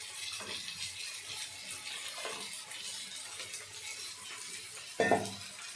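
Rice is added to a pot of boiling water with a little oil, giving a soft, steady bubbling wash with a brief splash and clatter near the end.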